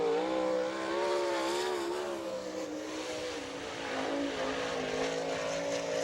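Sprint car number 92 on a timed qualifying lap at Attica, Ohio in an All Star Circuit of Champions event, its engine wailing steadily with pitch sweeping up and down through the corners, loud and continuous.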